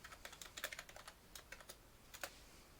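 Password being typed on a computer keyboard during a Manjaro Linux software install, a quick run of light, crisp key clicks with short pauses between bursts, close and clear over a faint background hiss.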